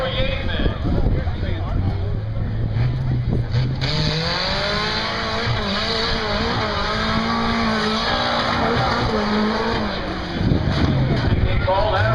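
A race truck at a motorsports park holds its engine against the rev limiter, a loud sustained roar with a rapid stuttering buzz and wavering pitch, a crowd and announcer murmuring faintly underneath.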